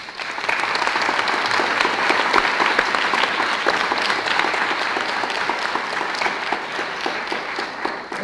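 Audience applause for a rabbi and her community at an evening discussion event, a dense, steady burst of clapping from a full room that swells and holds for several seconds, loud and close.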